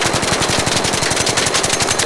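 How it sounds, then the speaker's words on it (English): Loud, continuous rapid-fire gunfire from the Stitcher weapon in the video game Arc Raiders, a steady stream of closely spaced shots fired while standing still, with no talk. "I'm going to shoot this without mitigating for the recoil, and I'm just going to stand and shoot."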